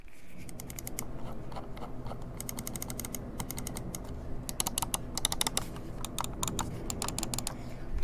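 Rapid clicking of the buttons on an Xlite V3 eS gaming mouse, a dense run of sharp close clicks in quick irregular bursts with no talking.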